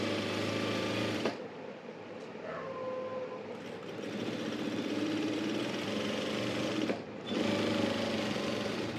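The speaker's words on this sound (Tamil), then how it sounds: "இப்படி மடித்து தைத்து பழகுங்கள்" A sewing machine stitches folded cloth with a steady close mechanical whir that stops abruptly, resumes at a similar pace, then cuts out again briefly near the end.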